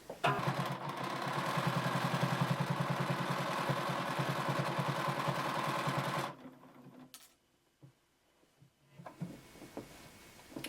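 A sewing machine stitches a half-inch seam around the edge of a three-layer fabric poncho. The motor whirs loud and steady for about six seconds, then stops, leaving brief faint handling clatter.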